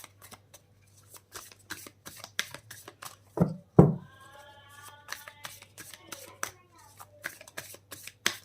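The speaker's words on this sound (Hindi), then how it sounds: "मैं आपके सामने कार्ड शफल करती हूँ" Tarot cards are shuffled by hand in a series of quick soft riffles and taps, close and fairly quiet, with a few louder slaps midway.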